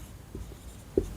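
Short scratchy strokes of writing on a board or paper, a couple of faint marks then a sharper tap near the end, close and quiet with no talk.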